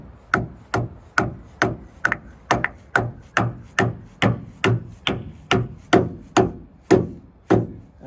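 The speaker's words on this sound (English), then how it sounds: "we'll take our dead blow hammer or soft rubber mallet" Repeated dull tapping, about fifteen evenly spaced knocks of a rubber mallet seating a pivot bushing into a metal tailgate hinge, close and distinct.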